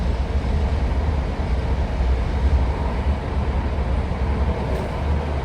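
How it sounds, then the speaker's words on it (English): A BART Orange Line Richmond train, car 3159, rumbles steadily along the track as heard from inside, a continuous broadband roar with no talking. "we're on the orange line Smithfield Richmond train"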